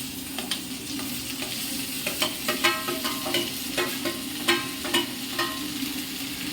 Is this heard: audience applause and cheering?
no